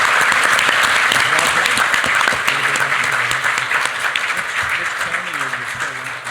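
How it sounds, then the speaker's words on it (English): An audience at a panel discussion applauds a panelist with a full, continuous wash of clapping. Voices rise faintly underneath as the applause thins toward the end. "round of applause for our first panelist."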